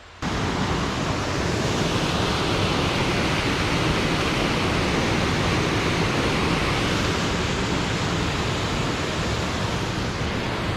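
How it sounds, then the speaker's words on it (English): A forest waterfall pours in a steady, dense roar that holds at the same level throughout, close and loud, with no voices or other sounds breaking through. "A waterfall like in the Highlands is expected, but not so much in a forest."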